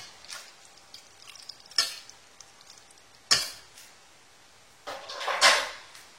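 Drained cooked pasta shells folded into a mayonnaise mixture, four separate wet, squelchy stirring bursts with quiet pauses between them, close and alone.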